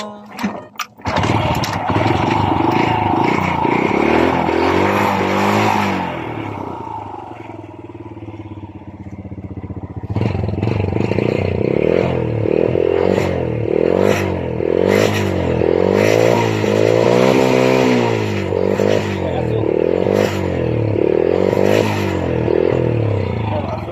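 A Honda Wave 100 underbone motorcycle engine revs loudly and repeatedly up close, its pitch climbing and dropping in quick bursts after a brief idle lull.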